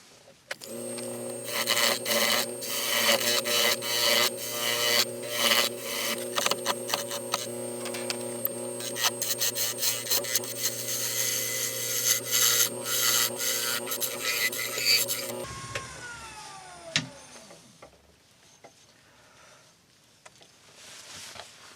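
A carbide tool scrapes a spinning yew wood mallet on a lathe, making a continuous, rough, rasping drone over the motor's hum. Then the scraping stops and the lathe winds down into quiet.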